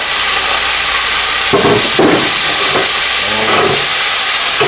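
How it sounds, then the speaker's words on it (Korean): Thick morning glory stems stir-frying with oyster sauce in a hot pan give a loud, constant sizzle and hiss, broken by a few sharp tossing clatters, with no voices. "넣은 다음에 두꺼운 줄기 부분 먼저 볶아줄게요."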